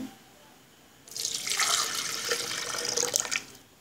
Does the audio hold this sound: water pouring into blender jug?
yes